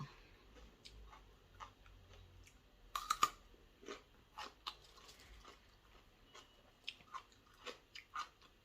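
Someone eats blanched vegetables with snail laab, giving close, quiet crunchy bites and chewing clicks spaced irregularly across a near-silent background.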